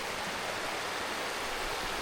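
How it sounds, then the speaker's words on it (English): A meandering creek beside a mountain hiking trail flows in a steady, dense rushing wash that stays close and even throughout, with no voices. "You're followed by a meandering creek"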